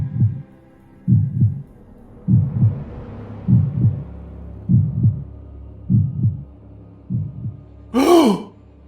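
A slow, muffled heartbeat thumps in pairs about seven times, then a single sharp, voiced gasp breaks in near the end, loud and close.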